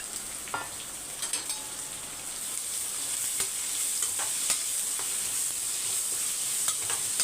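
Chopped garlic and two large onions sautéing in a pan, a steady soft sizzle with occasional stirring scrapes and clicks, close and moderately quiet, no talking.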